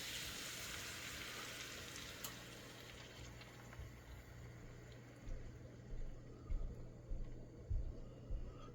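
Egg for a Spanish omelette sizzles faintly in a pan, a soft, steady hiss with a few louder bubbling bursts toward the end.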